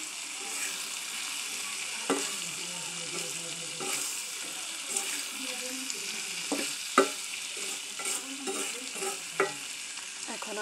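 Pumpkin frying with green chillies in a pan alongside dried fish, a constant sizzle broken by repeated spatula scrapes and clacks against the pan at an uneven rhythm.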